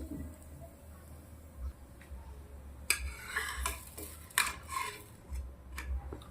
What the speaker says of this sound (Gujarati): એક તવો લઈ લીધો છે, આપણે પરોઠો વણીને તવાના અંદર મૂકી દેવાનો છે